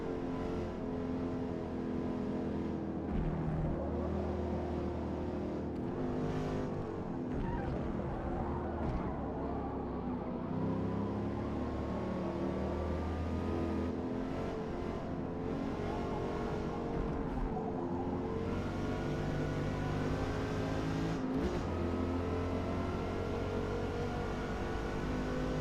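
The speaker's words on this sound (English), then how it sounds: "Rev." Engine note from a racing car in the Gran Turismo 7 video game rises and falls continuously through gear changes and acceleration, loud and sustained, with occasional tire squeal and no talking.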